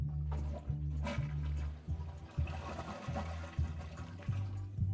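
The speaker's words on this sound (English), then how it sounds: "I hold down on this lever until I sense that the tank is mostly empty" Toilet tank draining through a held-down flush lever during a bidet seat installation (TOTO Washlet S7A), a loud, continuous rushing flush with gurgling surges lasting throughout.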